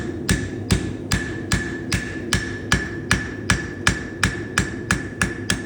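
A blacksmith hammers hot metal, shaping a shoe on the anvil with steady, evenly spaced ringing blows, about two per second, loud and close.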